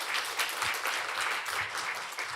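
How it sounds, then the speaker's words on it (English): Audience applause for a keynote speaker at an academic humanities conference, dense and fairly faint, heard from a distance as a continuous wash of clapping. "Please give a warm round of applause to Professor Javier Cha."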